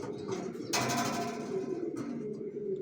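Racer pigeons cooing inside a loft, soft low repeated coos close by, with a brief rustle or flutter partway through.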